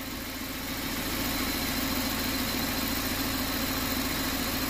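A BMW car idles with a noisy transmission, giving a steady, even engine drone with a constant mechanical whine and hum layered on top, heard alone at close range without any voices.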